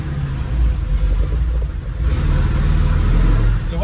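A Lada Niva 4x4 engine rumbles and revs in low, steady pulses, swelling slightly in its second half, with no talk over it.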